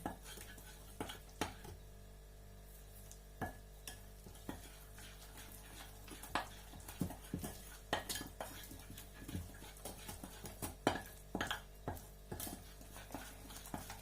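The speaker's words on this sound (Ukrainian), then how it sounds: "Але я все розмішаю ложкою, воно і так все прекрасно розмішається." A spoon stirring cake batter scrapes and clinks against a bowl in irregular repeated strokes, quiet and close, with soft knocks between the sharper taps.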